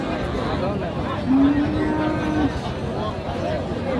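A cow moos once, a low drawn-out call, amid the busy chatter and hubbub of a crowded outdoor cattle market in Bangladesh.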